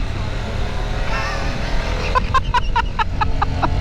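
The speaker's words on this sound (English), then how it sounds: "I just can't get over this, the sound this engine makes" A Kawasaki Versys 650 motorcycle engine hums while being ridden in Los Angeles, a steady drone under wind noise, with a rapid run of sharp revving pulses near the end.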